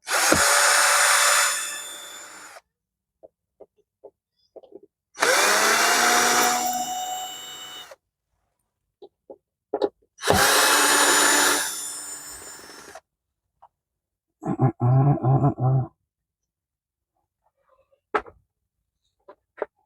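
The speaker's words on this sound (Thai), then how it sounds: "ต้องใช้สว่านไฟฟ้าอย่างเดียวครับ" An electric drill driving screws runs in three separate bursts of a couple of seconds each, separated by quiet gaps with light clicks and a short rattling buzz.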